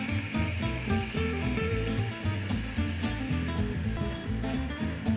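Meat frying in a pan for a harira soup, sizzling and crackling steadily up close with a continuous hiss and no talk.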